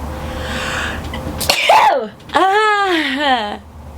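A woman sneezes loudly and close, a sharp burst followed by a voiced, drawn-out sneeze sound, with brief talk before it.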